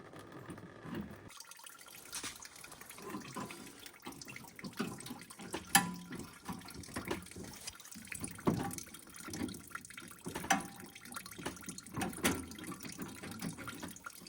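Fuel drains from the carburetor of a Toro PowerClear 518 ZE snowblower in a steady, faint trickle and patter of liquid, with small clicks and handling noises close by.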